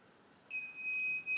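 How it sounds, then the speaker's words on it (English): A FieldTech Traplink Pro four-channel clay pigeon trap remote control emits a long, shrill electronic beep starting abruptly after a brief silence and holding steady to the end, near and clear. "So we will hold down solo and A, and we'll hear a long beep"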